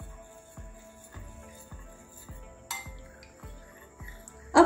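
A spoon stirring a quarter cup of fresh curd for panchamrit: regular soft knocks and light clinks against the bowl, roughly every half second, with a brighter scrape near the end and no talk.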